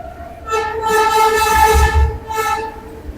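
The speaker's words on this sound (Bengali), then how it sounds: "তার পাশে দক্ষিণেশ্বর মেট্রো আসছে" A metro train near Dakshineswar rumbles close by, its loud horn sounding in sustained tonal blasts over the low roar of the passing cars, with a final shorter blast.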